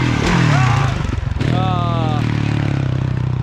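A dirt bike engine idles and revs at a large moto ramp, a steady low drone running the whole time beneath loud shouting and excited voices.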